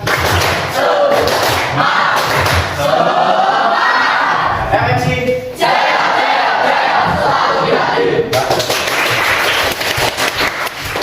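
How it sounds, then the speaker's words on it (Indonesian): A classroom of Indonesian students clapping hands together in a loud rhythmic burst, mixed with energetic shouting and chanting voices, repeating in waves before a teacher's lesson. "Tepuk tangan."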